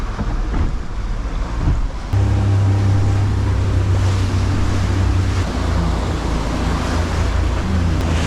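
A boat motor runs in gear at low speed while squid fishing at sea, a loud steady engine drone with a low hum that firms up partway through, mixed with wind buffeting and water wash.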